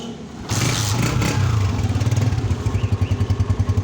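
A 2015 Honda CG 125 motorcycle engine starts and runs nearby, settling into a loud, steady rhythmic idle with pulsing exhaust beats.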